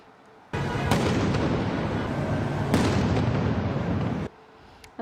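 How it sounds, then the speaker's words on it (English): Loud, sustained blast of explosions and fireworks at a downtown Los Angeles street protest, a dense roaring barrage lasting several seconds with sharp bursts at its start and midway, then dropping back to a quiet ambient hum. "Downtown LA, destruction, explosions heard, fireworks set off."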